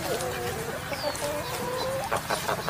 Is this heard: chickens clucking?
yes